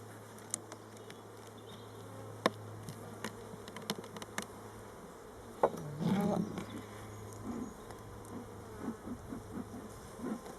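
Honey bees buzz around an opened hive during a spring inspection after eating their candy feed, a steady close hum with scattered clicks and handling knocks from the frames, plus a brief louder rustle midway.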